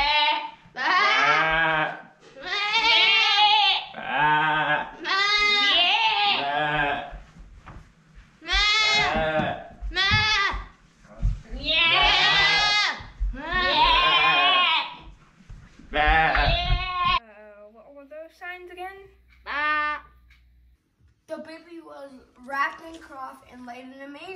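Sheep bleat repeatedly and loudly up close at a church Christmas program, in a run of drawn-out cries, with people talking briefly toward the end.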